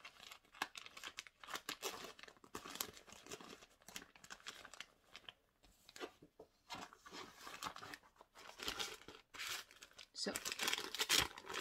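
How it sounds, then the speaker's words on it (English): Plastic packaging crinkled and handled up close during a cross-stitch work-in-progress show, irregular bursts of crackling and rustling with short pauses, a voice briefly heard at the start. "sorry for all the crinkling"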